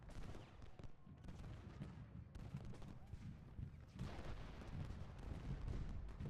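Artillery booms and musket volleys from a Gettysburg battle in the strategy game Ultimate General: Gettysburg rumble on without pause, a dense, muffled barrage that swells louder toward the end.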